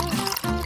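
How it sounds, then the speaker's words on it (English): Strawberry syrup pours into a glass along with ice, a short liquid gush and trickle with a faint drip, heard close up in a kitchen. "Add some strawberry syrup and ice inside."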